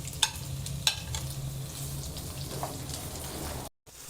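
Onions fry in oil for matar paneer, a soft, steady sizzle at low level with a couple of sharp stirring taps, ending in a brief silent gap.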